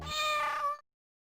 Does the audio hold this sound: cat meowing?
yes